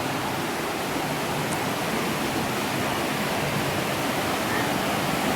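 Steady, broadband roar of a waterfall at Gragg Prong Falls on Lost Cove Creek in Pisgah National Forest, North Carolina, heard close and continuous with no breaks or voices.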